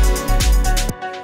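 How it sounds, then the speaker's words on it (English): A fat, soft-clipped kick drum in an old-school house groove: heavy booming low thumps pulsing about every half second under bright hats and a busy mix, ending abruptly. "you just get a really fat kick like this"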